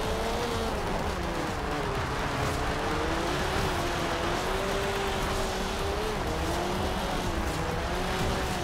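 Engine of a racing car driving laps in Forza Horizon 2 on Storm Island, a loud, steady drone that rises and dips gently with throttle over a constant rush of tire and road noise.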